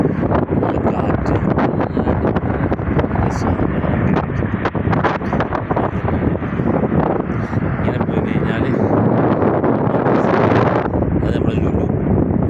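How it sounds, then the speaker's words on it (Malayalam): Strong wind roars steadily over the microphone on the road between Mecca and Jeddah, a loud continuous buffeting throughout, with someone speaking briefly over it. "നല്ല കാറ്റടിക്കുന്നുണ്ട്, നല്ല കാറ്റ്."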